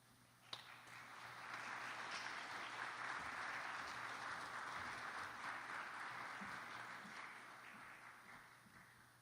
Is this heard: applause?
yes